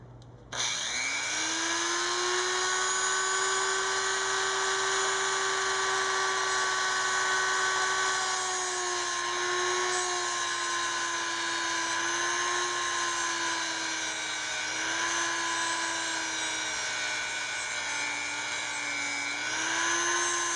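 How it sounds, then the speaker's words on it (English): Steady high-pitched whine of a grinder shaping the back rake of a homemade brad point drill bit, a continuous loud tone with many bright harmonics that wavers slightly in pitch throughout, no talking. "So I'm just going to grind that back rake."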